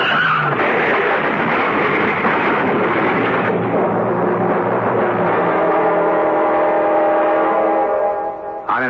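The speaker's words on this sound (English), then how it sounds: "John, that car ahead. It's skidding." Car skidding on an icy, hail-covered road in midsummer, a long loud continuous screech of sliding tires with a rising tonal whine near the end, close and steady.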